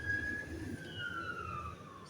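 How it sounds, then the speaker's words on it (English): A faint, distant siren wails with a slowly falling tone, heard alone against a quiet background for about two seconds. "Sirens always seem to come about whenever we're talking about something serious."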